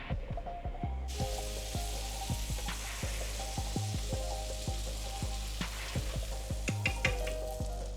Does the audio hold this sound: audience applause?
no